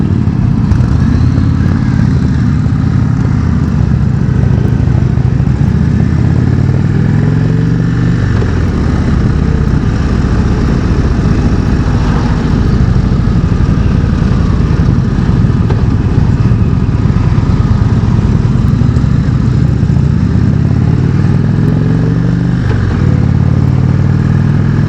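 Indian Chieftain motorcycle engine droning steadily and loud throughout a demo ride, with rumbling low tones, wind buffeting and shifting revs but no talking.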